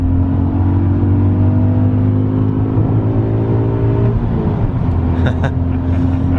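A BMW E92 M3 with a 3.4 engine accelerates hard from inside the cabin, its engine note climbing in a loud, continuous rising drone, with a brief rough shift-like break near the end.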